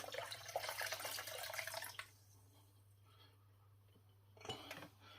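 Homemade turbo cider pours and splashes into a glass for about two seconds, then quiet with a faint clink and another brief trickle near the end.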